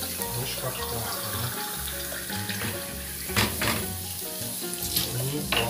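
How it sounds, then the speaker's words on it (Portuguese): Seasoning browning and frying in a home cooking pan, a steady close sizzle with occasional sharper crackles and clatters of utensils, and voices talking nearby. "Tá um temperinho que tá dourando."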